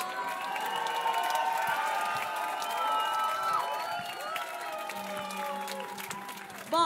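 A concert crowd at Antipode in Rennes claps steadily while whoops and high cheers rise above the applause, a sustained, lively roar that holds for several seconds before a brief louder burst at the end.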